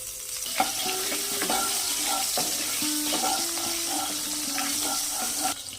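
Food fries in hot oil in a wok, giving a continuous sizzle broken by scraping stirring strokes and a few clinks. It is fairly close and steady for almost six seconds.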